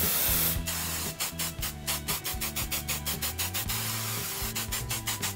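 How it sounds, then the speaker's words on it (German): Hairspray sprays onto curled hair in a long hiss, then several short rhythmic spurts follow, close and loud, with a faint steady hum underneath. "Und dann nehme ich mir das Haarspray"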